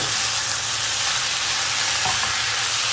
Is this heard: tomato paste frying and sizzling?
yes